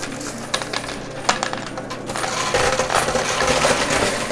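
Quarters and dice pushed off a shelf of a high-limit coin pusher, a dense metallic clatter of coins spilling and jingling that builds louder toward the end, no voices.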